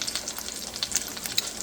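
A salmon meal simmers in a pan with a soft, even sizzle dotted with small popping crackles, close and moderately quiet, with no voices.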